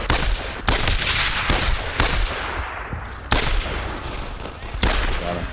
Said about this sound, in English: Somebody's shooting you to the right.